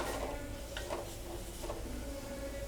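Shallots sautéing in a pan, a soft continuous sizzle with occasional light stirring scrapes, fairly quiet.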